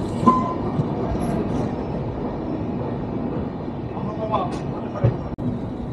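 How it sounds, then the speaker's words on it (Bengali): The Kamakhya Capital Express pulls out of Siliguri station, a low steady rumble of railcars rolling with occasional rattles and clanks, heard close from on board. "শিলিগুড়ি স্টেশন থেকে ছেড়ে যাচ্ছে এখন ট্রেনটি"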